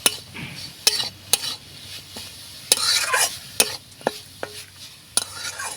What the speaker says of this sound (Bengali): এবার নাড়াচাড়া করে পুরটা তৈরি করে নেব